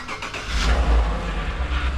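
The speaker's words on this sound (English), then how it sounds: "Pull out the truck since really don't got nothing to drive" A truck engine cranks and catches, then swells into a brief rev before settling into a rough, close running rumble, with no voices.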